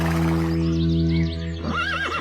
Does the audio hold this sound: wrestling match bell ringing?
no